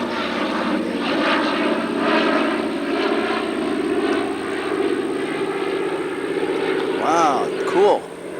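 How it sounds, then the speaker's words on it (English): A vintage Douglas DC-3 propeller airliner drones steadily overhead at a 1991 Moody AFB airshow, a loud continuous engine roar with a whistling tone near the end, while spectators talk over it. "That's an old Douglas DC-3."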